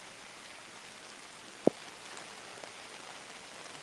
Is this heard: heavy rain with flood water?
yes